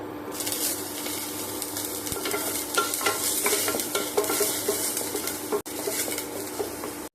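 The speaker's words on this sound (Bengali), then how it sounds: "আমি দিয়ে দিচ্ছি পেঁয়াজ, আদা," Onion, ginger and garlic fry in a little oil in a pan, a steady crackling sizzle with repeated scraping stirs throughout, close and moderately loud, with a brief break near the end and no voices.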